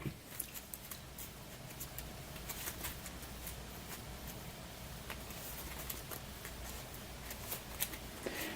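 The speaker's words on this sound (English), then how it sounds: "Just giving the deck a quick shuffle off camera." A deck of playing cards being shuffled during a Hero Realms card game, a long run of soft, rapid riffling and ruffling close by, steady and fairly quiet throughout.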